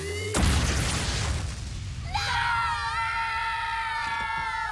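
A cartoon explosion as the candy factory is blown up in Teen Titans: a sudden loud broadband blast that rumbles on, then gives way to bright, wavering tonal effects with crowd-like screaming.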